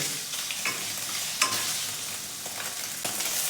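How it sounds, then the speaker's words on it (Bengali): Paneer fries in oil in a kadai, with a dense continuous sizzle under a few scraping stirs of a utensil, close and even, with no talk. "পানিরগুলো আমার ভাজা হয়ে গেছে"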